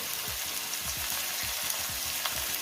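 Vegetables sauté in a pan with a little salt and turmeric powder for a traditional Bhogi thali, a continuous loud sizzle with regular scraping strokes of a spatula stirring them.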